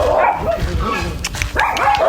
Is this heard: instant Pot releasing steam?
no